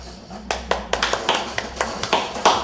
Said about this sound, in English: Roman loves to clap